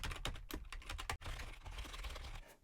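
Rapid keystrokes on a computer keyboard while typing a file path and name, a dense run of close, crisp clicks with one brief pause near the middle; no talking.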